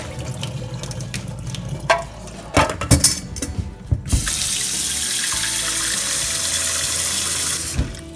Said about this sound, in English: then we're gonna pour cold water over them so that they will be easier to peel